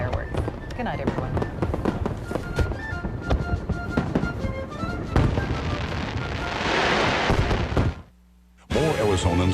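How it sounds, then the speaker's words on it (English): A large fireworks display over New York's East River on the Fourth of July, with thousands of shells going off in dense, continuous bursts and crackles for several seconds, then a brief pause before more bangs. "this spectacular display of fireworks lit up the night sky over New York's East River"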